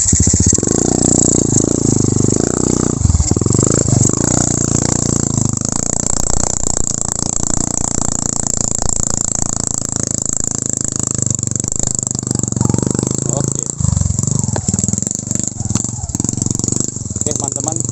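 Honda Karisma motorcycle engine running on a trip in Saree, Aceh Besar, a continuous mid-pitched rumble and rattle heard throughout under near, ongoing talk by people.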